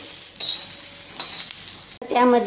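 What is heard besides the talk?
dry-roasting red chilies and tomatoes in a pan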